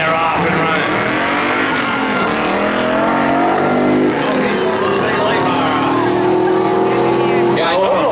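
Loud engines roar together as trucks launch off the line at a night drag race at Beech Ridge, with rising, shifting engine tones over constant crowd noise and a nearby spectator voice.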